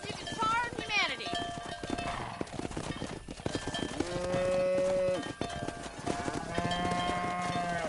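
Cattle lowing in the Red Dead Redemption video game as a herd is driven down a road, with moos and hoof clops over game music and voices talking.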